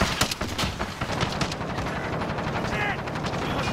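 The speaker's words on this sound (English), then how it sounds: "Launching rocket." Rocket launch in the video game Call of Duty: Modern Warfare: a dense, loud burst of blasts and rapid gunfire-like cracks at the start, then a continuous rumbling barrage of combat noise.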